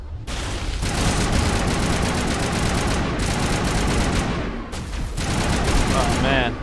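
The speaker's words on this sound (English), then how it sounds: "we're just gonna come in and shoot this guy" Sustained automatic gunfire from the video game Mass Effect Legendary Edition: loud, dense rapid bursts rattling continuously, with a brief pause before firing resumes.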